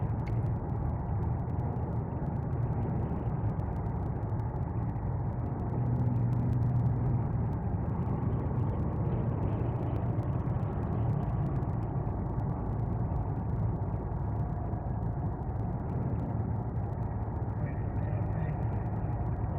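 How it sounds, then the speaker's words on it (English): Steady road traffic on a highway near the Michigan–Indiana line, a continuous loud rumble and whir of cars and trucks passing close by, with no break throughout. "Lots of traffic."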